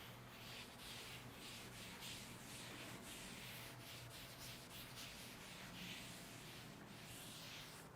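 A duster rubs writing off a board in quick, even back-and-forth strokes, making a soft, continuous scratchy swish close by with no talking.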